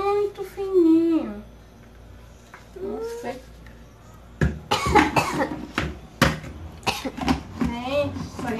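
A child coughs several times amid fine dust raised while blender blades are sharpened, short harsh bursts close by, with people talking before and between the coughs.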